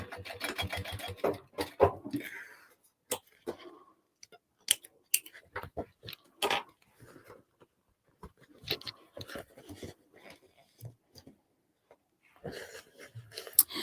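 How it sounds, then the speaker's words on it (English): A sewing machine back-stitches the top seam of a crossbody bag in short, rapid bursts of needle chatter, close up. The runs stop and start with brief quiet gaps between them. "I am just going to back stitch this top seam again"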